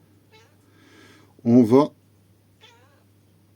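A cat gives one loud, wavering meow lasting under half a second, close by, between stretches of quiet indoor talk.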